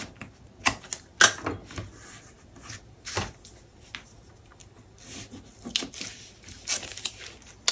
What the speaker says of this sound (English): We'll add another bit of tape.